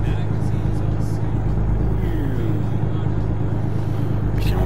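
A fast car in American Truck Simulator racing up and down over hills, a loud steady engine drone with low rumble running throughout.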